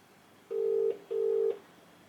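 A telephone line gives two short, steady electronic tones in quick succession while a call is placed to a local business. The tones are clear and close over faint line hiss, with no voices.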